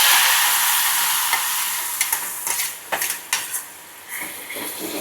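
Finely chopped big onion goes into hot oil with mustard seeds and asafoetida for a spicy chutney, giving a broad steady sizzle with intermittent clinks and scrapes of a spoon stirring the pan.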